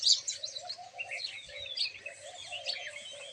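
Small birds, sparrows drinking water put out in the morning, give a steady stream of high chirps and tweets at close range throughout, with no talk.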